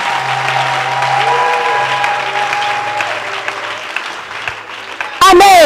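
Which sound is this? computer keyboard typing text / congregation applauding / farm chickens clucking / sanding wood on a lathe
congregation applauding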